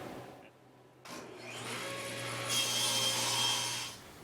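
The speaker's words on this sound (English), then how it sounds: "I'm ripping this over here on the bandsaw rather than on the table saw" A bandsaw rips a short piece of rough-cut plywood, its motor hum starting after a quiet second and a steady, fairly loud cutting rasp building and holding before easing at the end.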